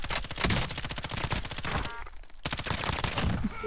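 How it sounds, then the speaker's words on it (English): Continuous gunfire in the PUBG battle royale game, dense rapid shots at moderate level with a short lull midway, mixed with other game noise. "I'll go ahead and start shooting."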